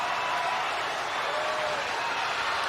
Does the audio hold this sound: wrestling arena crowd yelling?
yes